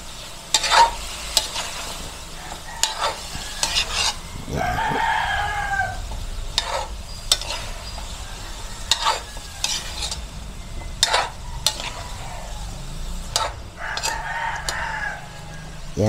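Cauliflower and shrimp chop suey gets stirred in a frying pan with a soft sizzle and repeated scraping clacks of a utensil against the pan, plus brief faint voices in the background.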